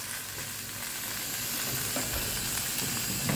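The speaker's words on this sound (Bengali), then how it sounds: "ওই কড়াতেই এই চচ্চড়িটা একটু গরম করে নিচ্ছি" Fish chochchori reheats in the same wok just used for frying fish, giving off a steady, close sizzle and hiss of hot oil with light stirring, and no talk.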